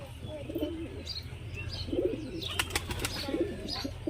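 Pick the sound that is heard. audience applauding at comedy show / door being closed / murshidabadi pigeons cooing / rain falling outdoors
murshidabadi pigeons cooing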